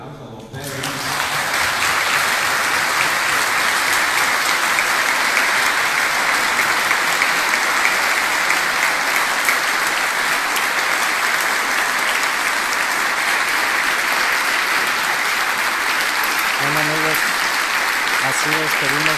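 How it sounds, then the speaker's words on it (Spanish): A large crowd at a funeral farewell breaks into sustained applause, a dense and even roar of clapping that holds steady for a long stretch with faint voices beneath it. "Vamos a darle un fuerte aplauso a Don Pedro."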